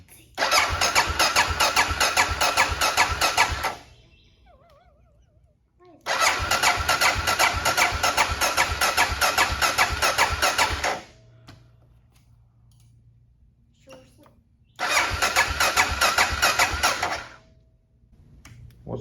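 A broken Honda XR650L dual-sport motorcycle is cranked over three times, each a loud, steady several-second whir of the starter with a rhythmic pulse, separated by quieter pauses where someone speaks.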